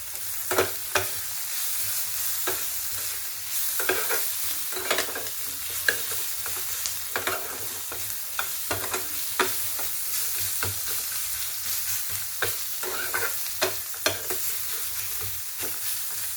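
Food dry-roasting in a pan while being stirred, a constant hissing sizzle with frequent sharp scrapes and clicks of a spatula in an uneven rhythm, close and steady throughout with no talking.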